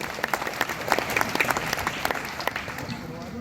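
A crowd claps steadily through a poetry gathering at the Rath Ramlila festival, dense uneven hand claps rolling on for a few seconds at a fairly even level, with faint voices mixed in.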